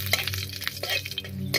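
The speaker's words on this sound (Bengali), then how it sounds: "তেল গরম হয়ে গেছে, এবারে দুটো শুকনো লঙ্কা আর 5 ফোড়ন দিয়ে ফোড়ন দেবো" Two dry red chillies and panch phoron spices hitting hot mustard oil in a kadai, crackling and spitting in quick irregular pops with a few sharp clicks, close and fairly loud.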